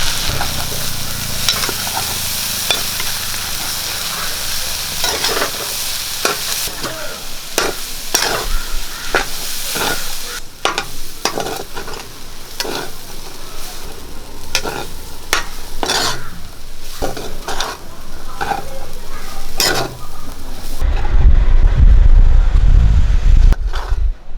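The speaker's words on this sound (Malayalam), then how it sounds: "നമുക്ക് തുറന്ന് ഇളക്കി കൊടുക്കാം." Spatula scraping and stirring a green banana and red cowpea stir fry in a pan, repeated irregular scrapes with soft sizzling, ending in a louder rumbling clatter.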